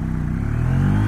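A Triumph Speed T4 motorcycle accelerating in first gear, its engine loud and close with a steady throbbing drone rising slightly in pitch over a brief moment.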